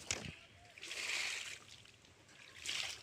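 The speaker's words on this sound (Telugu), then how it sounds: "మా నాయనమ్మ చెట్లకు నీళ్ళు పడుతుంది." A grandmother pours water over potted marigold plants, a soft splashing and trickling that rises and fades in two bursts, with brief voices around it.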